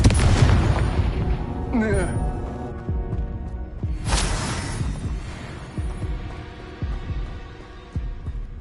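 Confringo blasting spell explosions in Hogwarts Legacy on PS4, heavy booming blasts with a rumbling low tail and a sharp burst midway, under a spoken voice.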